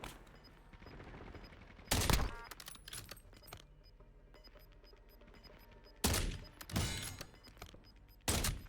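Three loud bursts of gunfire in a shooter video game, at about two, six and eight seconds, each a rapid cluster of shots over quieter game ambience and a faint steady tone.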